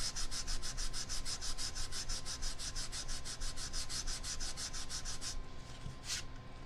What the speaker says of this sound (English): We're gonna use that sanding stick.